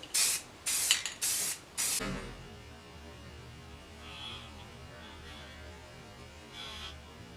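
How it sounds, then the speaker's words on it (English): Four short, loud hissing bursts of a Rust-Oleum gloss enamel spray can coating angle iron in quick succession, then a low, quiet background hum. "I'm going to go ahead and use some of this Rust-Oleum gloss enamel, and I'm just going to spray the outside"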